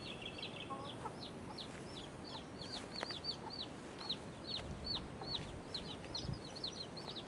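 A hen clucks repeatedly beside newly hatched chicks on a farm, with quick bright peeping calls in a steady stream over faint background noise.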